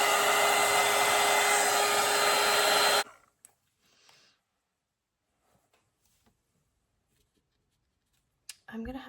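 A hair dryer blows loud and steady on a wet lemon watercolour painting for about three seconds, then shuts off, leaving near silence broken by faint small noises and a short rustle at the end.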